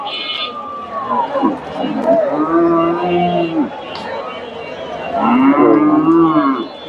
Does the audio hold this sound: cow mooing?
yes